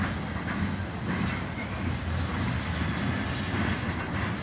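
A long BNSF freight train of tank cars rolls past at Piscataway, hauled by three engines, with a loud, continuous rumble and clatter of wheels that stays steady throughout.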